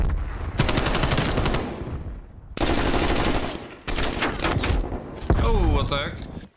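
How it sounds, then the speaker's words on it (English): AK rifle fire in the video game Black Ops Cold War during a hardcore hardpoint match on the Hijacked map, loud close bursts of rapid automatic shots in several strings, with a voice speaking over the action. "We're using the AK, of course"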